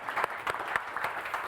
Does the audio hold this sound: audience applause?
yes